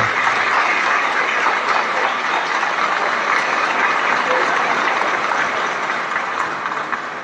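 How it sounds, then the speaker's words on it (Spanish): Loud, sustained applause from an audience at a police promotion ceremony, a dense, steady roar of clapping that fades slightly toward the end. "Un fuerte aplauso, por favor."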